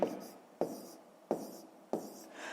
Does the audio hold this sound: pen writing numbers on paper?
yes